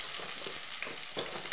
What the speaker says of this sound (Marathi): कोथिंबीर चांगली भाजू द्यायची।